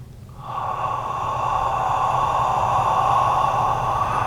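A long, deep inhalation during a guided breathing exercise, one steady, close, breathy draw of air that slowly builds in loudness and holds, with no talk.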